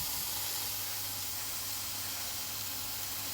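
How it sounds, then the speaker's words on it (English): Bacon and peppers sizzling in a frying pan, a steady, dense hiss that runs unbroken throughout at a moderate, even level, with no voices. "I am just literally cooking my bacon right now and my peppers"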